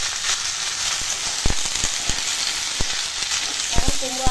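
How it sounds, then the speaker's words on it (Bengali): Cut pumpkin and potato pieces seasoned with turmeric and salt sizzle steadily in a hot pan, a continuous frying hiss punctuated by sharp pops and a few soft clacks of stirring. "এখন কুমড়ো আলুটা একটু রান্না করব।"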